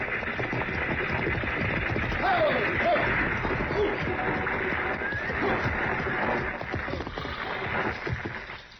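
Radio-drama sound effect of a six-horse stagecoach hitch: horses whinny and neigh over continuous clattering hooves and rolling coach noise, steady and fairly close throughout.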